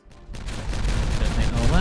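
Dynamite blowing up in Timberborn, a rumbling blast that swells in and keeps roaring and crackling loudly, with a voice breaking in near the end.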